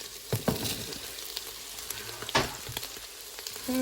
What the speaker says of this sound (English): I'll kind of give this a quick stir again. It smells amazing with the sesame through it.